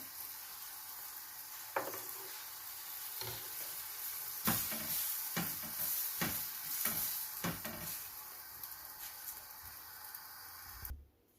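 Flatbread toasts in a hot pan for a homemade saucy chicken döner wrap, with a steady close sizzle broken by repeated scraping and handling bursts near the middle; no voices.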